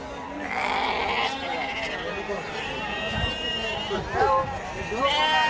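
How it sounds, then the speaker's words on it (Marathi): Sheep bleat at the Chakan livestock market in Maharashtra, with several calls at moderate distance rising through a steady murmur of crowd noise and nearby people talking. "हा पलीकडचा मेंढ्यांचा बाजार आहे"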